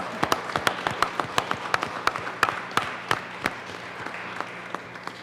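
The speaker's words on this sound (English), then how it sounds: "So yes, please give them a round of applause." A Colorado Senate chamber gives a round of applause for child abuse prevention workers, with dense, steady hand clapping from a roomful of legislators and guests that holds strong throughout before tapering slightly.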